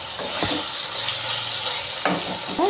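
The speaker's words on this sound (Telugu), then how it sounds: "టమాటాలన్నీ మగ్గుతున్నాయి, మసాలా కూడా మగ్గుతుంది." Tomatoes and masala fry in oil for an Andhra-style biryani, giving a steady close sizzle with a few scraping stirs of the spoon.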